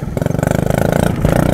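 A dirt bike revs close by on a jungle road, its engine throbbing in fast, even pulses and loud throughout, with no talking.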